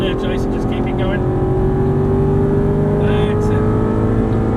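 An Aston Martin V8 Vantage pulls hard around a race track, its engine note climbing steadily in one gear with a strong, continuous drone. An instructor's voice talks over it throughout.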